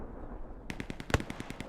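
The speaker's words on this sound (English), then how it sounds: "It's actually a bombing run" Bombing-run explosions rattle through a match of the video game Hell Let Loose as a rapid, irregular string of distant blasts and cracks, one heavier thump standing out over steady background noise.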